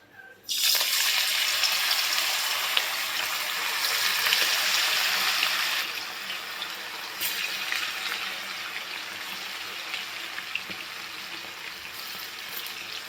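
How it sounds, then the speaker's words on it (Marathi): Loud, steady hiss of chicken 65 frying in hot oil, starting abruptly and continuing without talk, easing slightly partway through. "अशा पद्धतीने आपल्याला हे चिकन 65 फ्राय करून घ्यायचं आहे"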